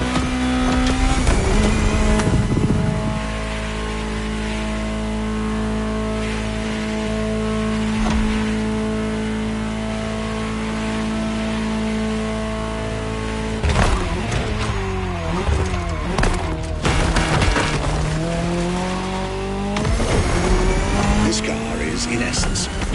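Ferrari GTO engine in a video game, a steady droning idle or cruise with a strong low tone, then revving and shifting surges toward the end, loud and close while someone narrates over it.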